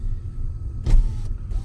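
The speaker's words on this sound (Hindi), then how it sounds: "सेकंड गियर पे 11-12 की स्पीड पे अपने आप चल रही है गाड़ी।" A Hyundai i20 petrol car crawls by itself in second gear at low speed, giving a steady low engine and road rumble heard from inside the cabin, with a brief louder swell partway through.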